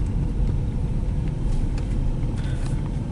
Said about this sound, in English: Going up the parking ramp because the first level's full.